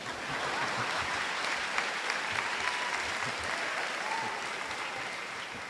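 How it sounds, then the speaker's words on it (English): Graduation audience at a 2017 Triad High School ceremony applauding steadily, a dense, even wash of clapping from a large crowd that holds at a constant level for several seconds, with no speech over it. "You can clap now."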